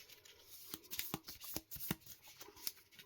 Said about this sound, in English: So we shuffle